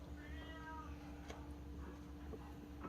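Pet kitten Bunhong, a young female cat in a red onesie, gives a couple of faint meows early on against a steady low hum, then stays quiet.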